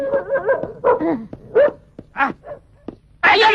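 A dog barks and yips several times in quick, uneven bursts, close by, with whimpery tones between the barks.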